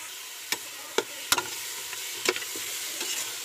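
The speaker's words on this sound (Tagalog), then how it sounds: "Wala po tayong mantika, so diretso na natin yung pork." Pork sautés in a pot with no oil, giving a soft, steady sizzle broken by a few sharp scrapes and clacks of stirring.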